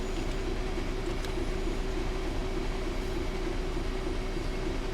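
A DB Cargo Class 66 freight locomotive in a train simulator game hauls a long freight train: a steady, loud rumble of rolling wagons with a constant low engine hum that runs unbroken and alone throughout.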